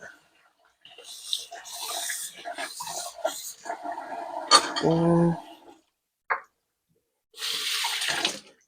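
A spatula being rinsed under a running kitchen tap, bursts of splashing water broken by short pauses, with a clink of the utensil and talking in between.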